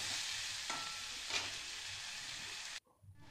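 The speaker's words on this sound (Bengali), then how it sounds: "মেথি শাক সহ পেঁয়াজ, আদা, রসুন, শুকনো লঙ্কা সব পুরো মশলাটা আর কি ভালো করে ভাজা করে নেব" Fenugreek leaves fry with onion, ginger, garlic and dried chili in a pan, giving a bright steady sizzle with stirring scrapes before it cuts off abruptly near the end, followed by quiet.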